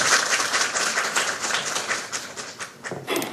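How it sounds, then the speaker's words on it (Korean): Audience applause at a Korean university academic and cultural festival, a broad wash of clapping that stays steady and fairly loud before thinning slightly toward the end. "큰 박수 부탁드립니다."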